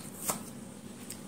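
Tarot cards are shuffled and handled during a reading, a soft brief riffle and rustle of card stock near the mic, with a short flurry followed by faint light handling.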